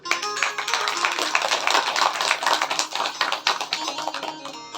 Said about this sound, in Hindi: अपने लिए तालियां बजाइए।